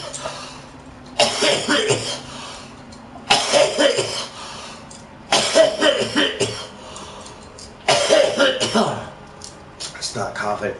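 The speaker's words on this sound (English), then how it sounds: "Stop coughing." Someone coughs in four heavy, repeated fits spaced a couple of seconds apart, each a rough burst of harsh barks, loud and close.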